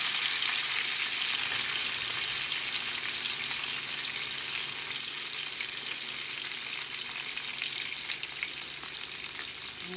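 Four sopes fry in an oversized pan with enchilada sauce, giving a steady, close, bright sizzle that runs unbroken from start to finish with no voices.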